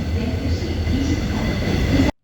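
A train in Korea runs steadily along the track, its low rumble and faint rail noise continuous and fairly close until the sound cuts off abruptly.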